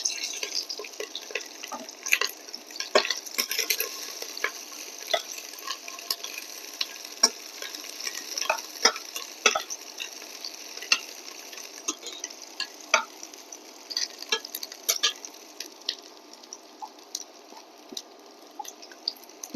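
Chopped onion frying in mustard oil in a pan for a beetroot stir-fry, with a light continuous sizzle, rapid popping crackles and occasional stirring scrapes throughout, quiet and close, no talking.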